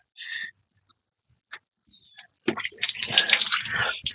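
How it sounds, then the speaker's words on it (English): Water drains from a vintage cruiser's freshwater tank after a few brief clinks and squeaks, then surges into a loud, steady splashing gush close by, with no voices. "So we're going to drain that out."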